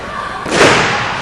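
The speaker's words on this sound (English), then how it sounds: "Nice leg drop from the Southern Savior." A wrestler's leg drop slams onto the ring mat at a live wrestling show, a single loud, broad thud rising out of crowd noise and commentary partway through.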